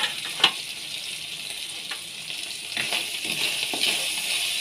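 Meat sautés in a pan for a Filipino mung bean stew (balatong), with a steady, close hiss of sizzling oil and occasional brief clinks and stirring scrapes. No voices are heard.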